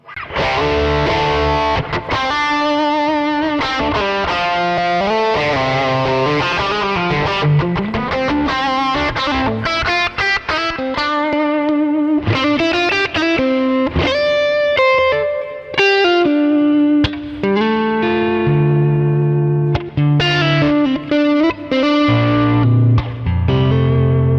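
A boosted electric guitar through a Kemper plays a continuous run of saturated chords and lead notes, up close and loud, with effects coloring the tone and no speech.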